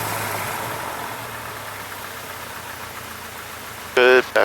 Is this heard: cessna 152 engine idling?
yes